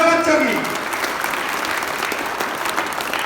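Children clap at a road-safety talk, a continuous patter of applause; a voice speaks over the start before the clapping carries on alone.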